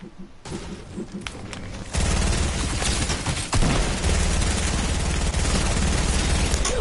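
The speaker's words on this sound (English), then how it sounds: "I was shooting at him, but it wasn't taking any damage" Rapid gunfire in a video game: sparse shots at first, then a dense, loud, continuous burst of shooting that keeps going without pause, with no talking.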